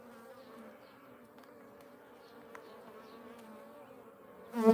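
Honeybees hum steadily from an open hive during a midsummer Australian hive inspection, a soft, continuous drone at close range that swells to a louder burst at the very end.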